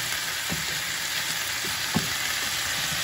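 Chicken wings stir-frying in a wok with ginger, onion and fermented bean curd, a dense steady sizzle broken by a couple of low thumping spatula stirs.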